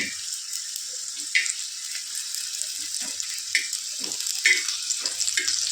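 Green chillies roast and sizzle in hot oil for chutney, a steady bright frying hiss with small pops and crackles scattered throughout.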